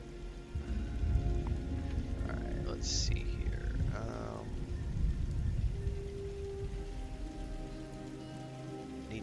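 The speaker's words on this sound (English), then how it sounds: "Oh, it's raining?" Steady, dense rain in the video game Fallout 76 patters continuously; someone speaks briefly and quietly over it.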